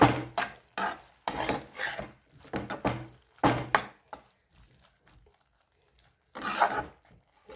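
Green beans and peanut powder being stirred in a pan, a run of close scraping, stirring knocks in bursts with brief pauses, ending in one more flurry.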